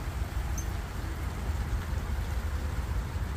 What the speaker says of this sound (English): It's raining. Yeah, it's coming down pretty good again.